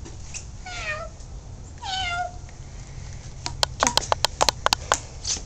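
A big fat cat outdoors gives two clear, drawn-out meows close by, followed by a run of sharp, quick tapping and patter sounds.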